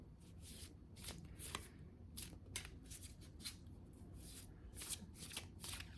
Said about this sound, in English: I'm just gonna pull some oracle cards